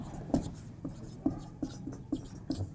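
Hand-writing of Euclid's division lemma during a Hindi maths lesson on finding HCF, heard as a series of short, evenly spaced pen strokes and taps, close and moderately loud, about one every half second with no talk.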